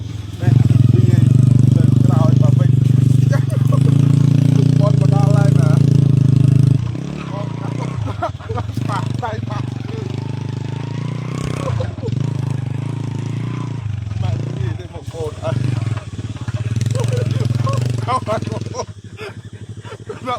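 A motorcycle engine drones loudly and steadily on a forest trail, then drops in level and continues rumbling with revs rising and falling, while people talk over it.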